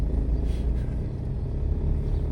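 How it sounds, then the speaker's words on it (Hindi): A car engine labours slowly up a steep mountain road near Palampur in second gear, giving a steady low rumble with no voices. "चढ़ गई दूसरे गियर में धीरे धीरे।"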